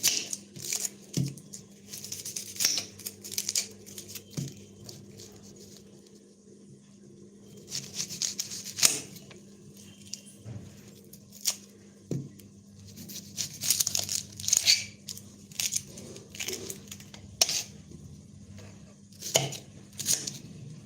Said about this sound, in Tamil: இதுதான் எங்கள் வெங்காயம் அரைக்கிற மிஷின் அதில் போட்டுடலாம் குட்டி குட்டியாக அறுத்துருவோம்